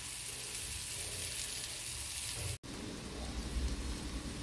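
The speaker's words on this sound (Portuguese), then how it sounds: "Preencheu toda a sua frigideira, agora é só deixar aqui dourar de um lado e dourar de outro" Sweet potato slices fry in a pan with a soft, even sizzle resembling light rain, steady throughout apart from a brief dropout midway.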